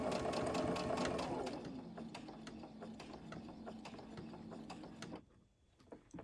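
Sewing machine stitching a chap stick holder at a 2.0 stitch setting: a rapid, steady mechanical whir of needle strokes that runs close and loud, eases slightly after two seconds, then stops near the end.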